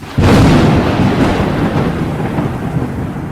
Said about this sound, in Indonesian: Rumah mewah Sarwendah disambar petir